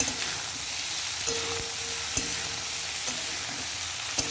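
Potato and spring onion sizzle in a frying pan while being stirred, with a steady hiss broken by a few sharp scrapes and clacks of the utensil against the pan.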